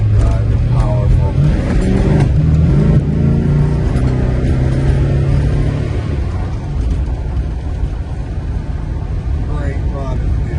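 A 1969 Plymouth Road Runner with a 440 six-pack engine idles loud and close in a steady, deep, lumpy rumble that is not fully warmed up, continuous for the whole stretch with a slight easing toward the end.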